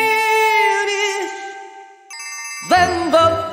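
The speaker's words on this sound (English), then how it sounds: "then the phone rings." Cartoon telephone ringing in an animated children's show, a bright electronic ringtone of sustained tonal trills, pausing briefly before a sharper second ring with voices chiming in near the end.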